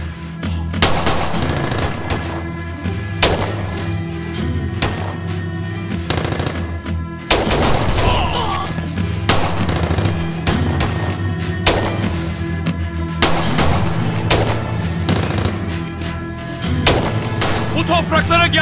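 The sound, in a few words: gunfire in a shootout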